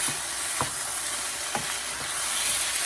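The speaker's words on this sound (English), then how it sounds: "make sure you stir it really well" An old wooden spoon stirs fried rice sauce, thickened with cornstarch, in a sizzling pan for chicken fried rice, giving a few soft scraping strokes over a steady frying hiss.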